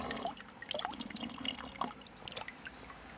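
Fresh drinking water running from a public fountain in Zurich, a steady close splashing and trickling stream with bright droplet spatter, heard alone with faint street ambience.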